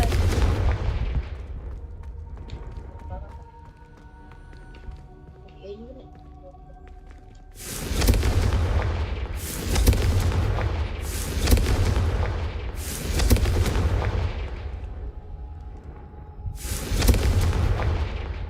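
Confringo fire spells exploding in the Hogwarts Legacy game, heard as a string of five loud booming blasts at a steady pace after a quieter stretch of low rumble and ambience.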